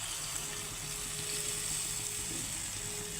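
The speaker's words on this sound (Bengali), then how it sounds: "এবারে একটু জল দিয়ে দিচ্ছি" Water poured into a hot pan of thinly sliced potatoes cooking with Malabar spinach, a steady hissing sizzle and pouring wash held at an even level throughout, with no talk.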